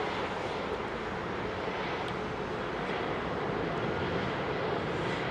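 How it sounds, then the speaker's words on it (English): A Boeing 777 airliner climbs out at London Heathrow, its engines giving a steady, broad jet roar that stays loud and constant throughout. "Big, beautiful 777 going up there."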